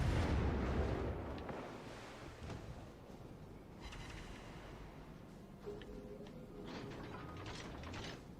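Warship guns in World of Warships: Legends boom heavily, with a loud rumbling blast at the start and further deep thuds and rolling echoes across several seconds, without speech.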